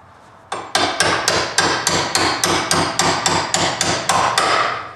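Bolts being hammered out of a Club Car DS golf cart spindle during a lift kit install: a loud, close, steady series of about a dozen metallic hammer blows, evenly spaced, with no talk.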